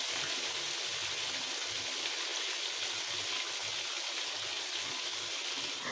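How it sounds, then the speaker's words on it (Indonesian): Tilapia frying in hot oil, a continuous dense hiss and crackle, steady and close throughout with no voices. "ini aku lanjut goreng ikannya"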